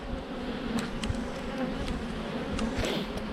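Caucasian honey bees hum steadily around their hive, a dense close buzz with individual insects zipping past the mic now and then.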